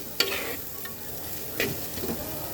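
Spice masala sautés quietly in a clay pan, a soft low sizzle broken by a few sharp scrapes and stirs of a spoon against the pot.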